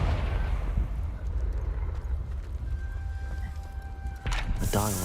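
A Confringo fire spell explodes in the Hogwarts Legacy video game: a dense, rumbling blast fills the clip with a steady roar, and a sharper burst with a fading ring arrives near the end.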